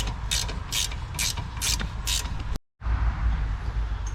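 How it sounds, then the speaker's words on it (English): Impact gun taking off the rear upper control arm nut on a Toyota Camry, rapid loud hammering bursts in a steady run, then a brief cutoff before more mechanical noise, with no talking. "with an impact gun, no worries"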